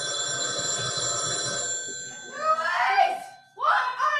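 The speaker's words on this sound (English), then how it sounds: "Walter, isn't that where the phone rings?" A telephone bell sound effect in a live radio play rings in a steady, bright trill, then two voices speak over it in the second half.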